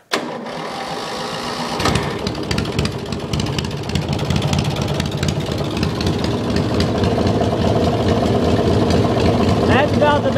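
A race mower engine catches and settles into a steady running note, loud and close, during a charging-system test. The sound is continuous and grows slightly over ten seconds, with talk faintly beneath.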